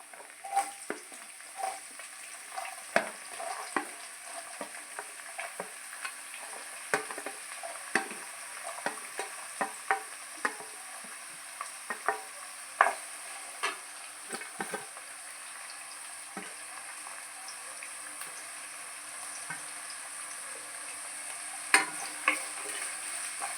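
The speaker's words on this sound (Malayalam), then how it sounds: "അതൊന്ന് വഴറ്റുക. ഉള്ളി ചെറുതായിട്ട് അരിഞ്ഞത് ചേർക്കുക." Chopped onion sautéing in a pan for brinjal gravy, a soft continuous sizzle with frequent sharp ticks and scrapes of a spatula stirring throughout, close and without talk.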